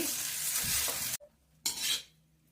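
Tomato rice is stirred in a pan in two bursts of scraping and sizzle, broken by a short near-silent gap, close and fairly quiet, with no talking.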